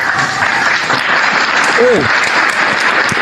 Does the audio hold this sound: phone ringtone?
no